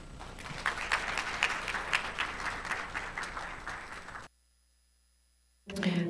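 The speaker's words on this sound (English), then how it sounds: "Let's give a big hand of applause to everyone." At the close of a corporate forum on forest, climate and ESG, an audience gives a moderate round of applause for about four seconds, then it cuts to silence before a brief burst of sound returns.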